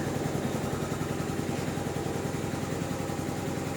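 A 2006 Yamaha Morphous scooter idles steadily nearby, a smooth, even engine hum with a faint low pulsing throb and no revving. No voices are heard.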